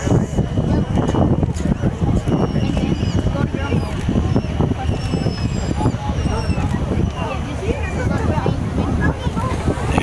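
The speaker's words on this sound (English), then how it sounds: "let's listen to the wind over the wings of the Interstate Cadet here" Wind rushes over the wings of an Interstate Cadet light plane gliding with its engine off at an airshow, a loud continuous airy roar with faint thin whistles above it.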